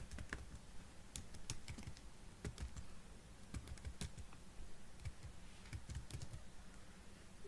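Computer keyboard being typed on while C program code is entered, with quick irregular key clicks close up and faint, no voices.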